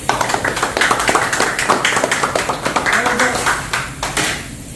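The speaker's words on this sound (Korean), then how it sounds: "우선 박수 한번 치죠" Staff at a team leader's inauguration ceremony at the Gwacheon racecourse stable break into steady group clapping, a dense patter of many hands close by, with voices mixed in, before it fades at the end.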